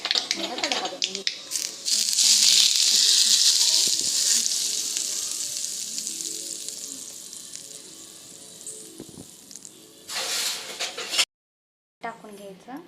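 Tempering for mendu vada sizzling in hot oil, a loud bright crackle that swells early then fades, with stirring clatter and a second burst of sizzling near the end.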